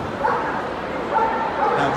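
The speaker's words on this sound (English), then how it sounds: "getting your dog to bark on command" A working-trials dog at a Crufts display barks on command, giving short yippy barks and whines over the hubbub of a busy arena, with people talking.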